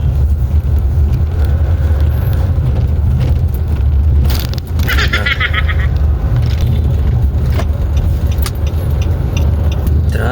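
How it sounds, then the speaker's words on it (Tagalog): Road traffic in a heavy jam on the way to Guiginto, heard as a dense, continuous rumble of cars and engines close by, with a few brief clicks and rattles mixed in and no talking. "Grabe pala yung traffic dito par."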